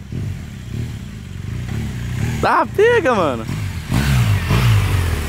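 A BMW R1200 motorcycle engine idles low, then revs in several quick rising bursts up close, settling back to a throbbing idle; someone speaks briefly over it.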